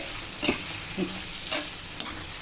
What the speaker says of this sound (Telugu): ఈ రొయ్యల్లో వేసుకొని బాగా కలుపుకుంటామండి.